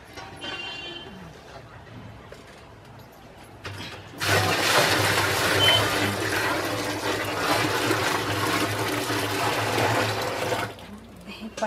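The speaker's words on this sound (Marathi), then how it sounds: "आता यात पाणी टाकू हे 30 लिटर." Thirty litres of water gush into a container of jeevamrut farm mixture made with a gram-flour solution, a loud sustained rushing pour that starts suddenly after a quieter stretch and stops near the end.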